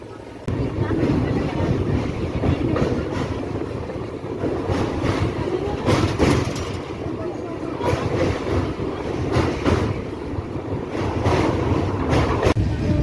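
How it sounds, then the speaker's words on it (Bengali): Puri Duronto Express (train 22201) running on rails as it takes a curve near the Kolaghat bridge, a steady, loud rumble of wheels and wind from on board, with voices talking over it. "এখন আমাদের ট্রেনের কার্ভ নিচ্ছে"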